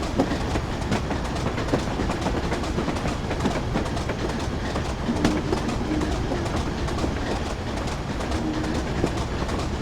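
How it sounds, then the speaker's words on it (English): A locomotive in the Train Simulator 2015 video game on a route between Darlington and Durham via Bishop Auckland accelerates slowly, with a steady loud rumble of engine and rolling wheels and faint rhythmic clicking of rail joints throughout. "we're certainly accelerating extremely sluggishly in this loco"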